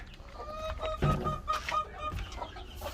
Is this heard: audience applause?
no